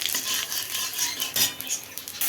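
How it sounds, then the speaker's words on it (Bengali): A dried red chilli and nigella seeds go into hot oil for tempering, a brief crackling sizzle mixed with the scrape and clink of a spoon stirring in the pan. "এবার ফোড়নের জন্য দিয়ে দিচ্ছি একটা শুকনো লঙ্কা, আর দিয়ে দিচ্ছি কালো জিরে"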